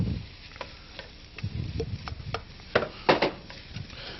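Rice stir-fried with scrambled eggs in a hot pan, a spatula scraping and clacking in irregular strokes over a soft sizzle, close and crisp with no talking.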